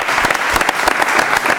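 Short burst of dense studio audience applause on a French television talk show, loud and steady with no talk over it.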